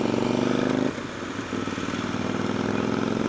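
A 2013 motorcycle engine runs under load on a Devon road trip, its throttle twitched now and again. A loud, steady buzzing drone dips briefly after about a second, then picks up again with sharp, responsive surges.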